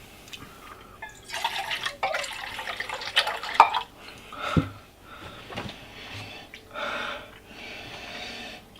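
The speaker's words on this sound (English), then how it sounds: "pour me some lemonade" Lemonade is poured from a container into a cup beside a Chinese Type 13 MRE ration, splashing and trickling liquid in several uneven bursts with short pauses, close to the microphone.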